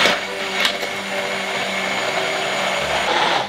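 A kitchen blender whirs loudly and steadily while emulsifying a sauce with peanut oil, a close motor drone with a faint rattle near the start and no talking.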